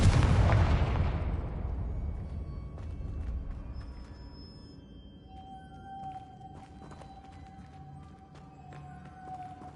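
Confringo spell blasts go off in the video game Hogwarts Legacy: a loud booming explosion at the start decays into a rumbling tail, followed by fainter crackles and a sustained tone.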